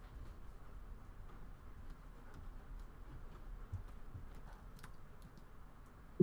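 Soft, scattered keyboard clicks of someone typing at a relaxed pace, faint and close, with a low background hum and no talking.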